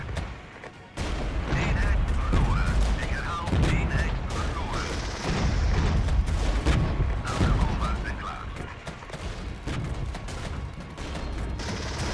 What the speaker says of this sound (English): That napalm was perfect.